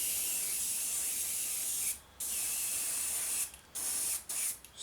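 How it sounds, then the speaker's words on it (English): Airbrush spraying thinned paint onto an Eduard 1/32 Messerschmitt Bf 109E-3 model aircraft: a steady close hiss of air and paint, broken by several short pauses as the trigger is released. "they just thin down very nice, and are nice to airbrush through as well"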